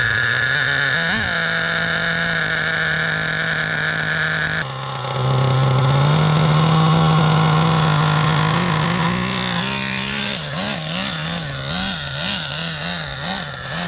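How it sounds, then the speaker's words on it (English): A Traxxas Revo 3.3 nitro RC truck engine warms up with a loud, steady high-pitched buzzing whine. Partway through it jumps to a higher idle, then rises and falls in repeated short revs, close and with no talking. "Get the engine all warmed up"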